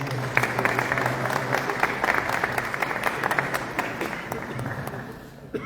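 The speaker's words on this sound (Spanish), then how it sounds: "Fuertes aplausos." Sustained applause from an audience welcoming a monsignor, steady clapping that gradually tapers off.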